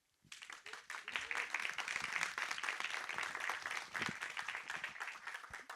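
An audience breaks into sustained applause, many hands clapping steadily for several seconds after a quiet start.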